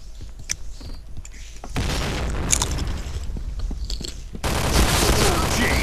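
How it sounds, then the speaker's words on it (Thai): Booming explosions and rapid gunfire-like bursts in the video game Point Blank, loud and dense, growing more intense toward the end. "เฮ้ยระเบิด"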